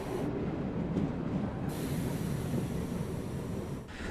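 The Darbhanga–Saharsa passenger train runs through pouring rain, a continuous rolling rumble mixed with a rushing, hissing roar that stays close and loud with no voices.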